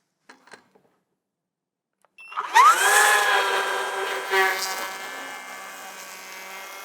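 Festool HLC 82 cordless planer making a pass on wood, the motor whining up loudly after a quiet start with faint clicks, then a sustained close cutting buzz.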